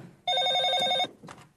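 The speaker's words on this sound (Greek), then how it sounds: "τηλέφωνο!" An old telephone bell rings in a home, one loud, close electric trill lasting nearly a second, then a short fainter burst of the ring after a brief gap.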